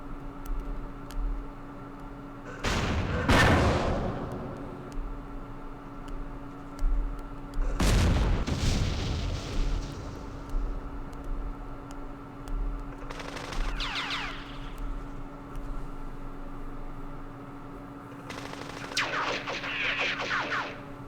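Bursts of gunfire and heavy booms strike an enemy bunker in the Vietnam war game Campaign Series Vietnam, arriving in four separate loud volleys spaced several seconds apart over a low steady hum.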